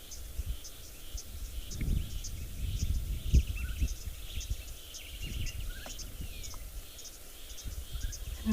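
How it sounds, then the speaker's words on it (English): Insects, birds and frogs call together in wet bushland after rain. Steady cricket-like pulsing trills sit over a low rumbling background, with occasional faint bird chirps. "Insects, birds, frogs, everybody's calling."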